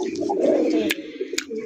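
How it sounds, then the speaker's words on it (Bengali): Jharna Satin pigeons coo loudly and continuously close by, a dense rolling chorus interrupted by two sharp clicks or knocks. "নটা কিন্তু প্রচুর পরিমাণে ডাকাডাকি করে ভাই"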